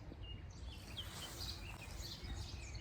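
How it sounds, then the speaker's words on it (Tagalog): Birds sing in the morning outdoors after rain, faint scattered high chirps and tweets over a steady low background hum, with no voices. "Pakinggan natin yung mga ibon. Sarap nilang pakinggan sa umaga."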